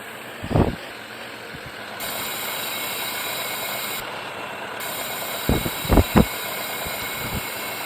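A diesel locomotive engine in a train simulator game, a Forge Simulations V10c, idles steadily with a low rumbling drone, a few sharp mechanical clunks and hisses punctuating it; no one speaks.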